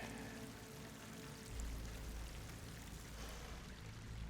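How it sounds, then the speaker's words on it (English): Water pours into an enclosed space with slick walls in the video game Horizon Forbidden West, a steady, continuous rushing flow with a low rumble underneath, faint and without voices. "Water's coming in."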